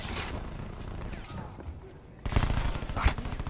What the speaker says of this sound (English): Oh, damn, I'm getting shot at.